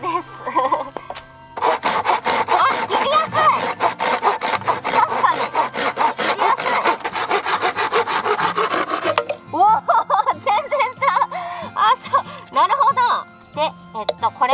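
A handsaw rasps back and forth through bamboo in quick, steady strokes for several seconds, then stops as people chat nearby in Japanese.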